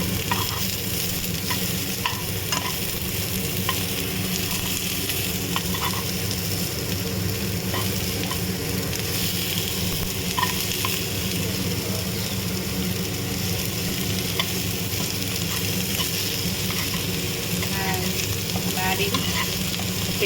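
Onion cubes frying in a pan with a pinch of salt, a dense, continuous sizzle with occasional stirring clicks, close and steady for the whole stretch, no talking.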